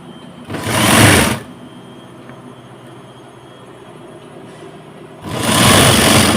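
A sewing machine stitches a blouse hem in two loud, close bursts of fast whirring, about a second each, separated by a quiet pause with a faint background hum.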